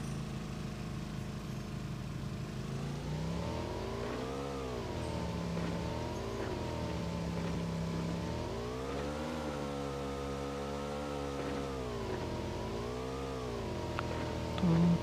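Motorbike engine in PUBG Mobile Lite drones steadily for the whole stretch, its pitch rising and falling as the bike accelerates and eases off, loud and close with no talk over it.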